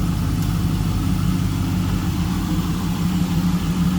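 The LS1 V8 of a 2002 Chevrolet Camaro Z28 convertible idles with a steady, even low rumble, close by and continuous, with no talking.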